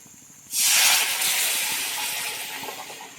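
Spicy shev bhaji gravy hisses and sizzles loudly as water is poured into the hot pan, a sudden burst of steamy broadband hiss that slowly eases while it heads toward a boil.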